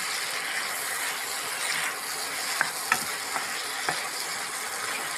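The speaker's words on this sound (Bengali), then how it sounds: "আচ্ছা, আমি একটু ভালো করে নেড়ে নিই, ভালো করে নেড়ে নিলাম।" A spoon stirs strawberry tomato chutney in a pan, giving a soft continuous simmering hiss broken by a few short clicks and scrapes near the middle.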